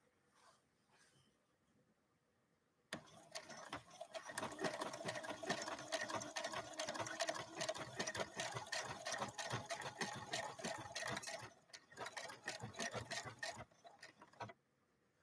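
A Brother LB-6800 embroidery machine stitches in a rapid, rhythmic mechanical chatter. It starts abruptly after a quiet lead-in, runs close and loud for several seconds, then stops and is followed by faint handling noises.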